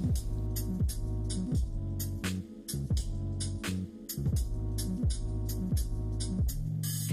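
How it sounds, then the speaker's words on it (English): A food processor chops parsley, onion, garlic, celery and mushroom stems in a rapid series of about ten short motor pulses, each whirring burst dropping in pitch as it spins down. "Combine the parsley, onion, garlic, and celery in a food processor, including the stems from the mushrooms that you've hollowed out, and then process everything"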